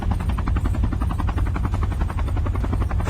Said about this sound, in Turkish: İn lan şu helikopterden ses yapıp durma Allah belası.